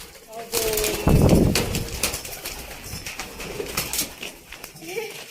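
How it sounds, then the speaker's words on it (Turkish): Baby pigeons on a farm coo softly, with a brief flurry of wing flapping near the start, mixed with children's and adults' chatter close by. "O yavru güvercinmiş. Bebekmiş daha."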